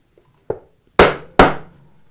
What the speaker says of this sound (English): Gotta grab the mallet.